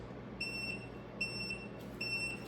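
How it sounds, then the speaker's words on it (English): Vacuum food sealer sounding three beeps, each a short high electronic tone at an even pace, thin and fairly quiet over a low steady hum. "Wait for it to beep 3 times."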